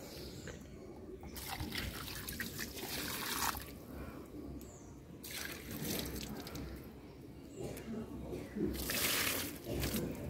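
Water running and trickling into a container outdoors in a rural setting, a continuous splashing flow with brief surges, with a person talking over it.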